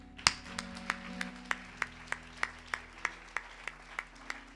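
A church congregation claps together in a steady, regular beat of sharp claps, about a dozen in a row, at moderate distance and without talking.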